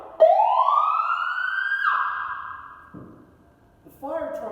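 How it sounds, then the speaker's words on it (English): A fire truck siren pulling out of the station rises in a long, loud wail, then cuts off, with a short rumble and a voice starting at the end. "Big Frank turns on the siren and heads out of the station."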